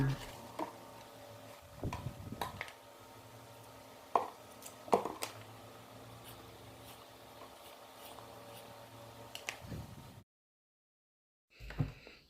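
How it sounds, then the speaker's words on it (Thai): A knife chops radish on a cutting board in a few scattered, sharp chops amid quiet kitchen background, with a short silence near the end. "แล้วก็หั่นเป็นชิ้นๆพอคำ"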